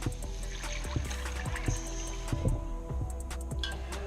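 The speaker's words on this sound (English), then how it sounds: "we're going to add 3½ cups of chicken stock" Chicken stock pours into a pot of softened carrots, celery, onion and garlic for sweet potato soup, making a quiet, continuous liquid splash with scattered small drips and clinks throughout.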